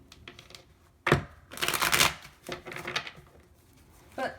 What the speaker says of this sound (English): I'll take one more shuffle and then we'll get into the rest of the cards.